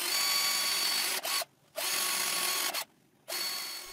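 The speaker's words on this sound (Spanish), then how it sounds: "Taladro agujeros guía." A power drill bores pilot holes to screw acrylic sheet in place on a homemade prompter, three short bursts of loud, close whirring separated by brief silent pauses.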